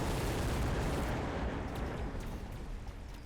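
Spider mines going off in a strategy video game, a dense, continuous roar of explosions and crackling blasts that stays loud and slowly thins toward the end, alone without talk.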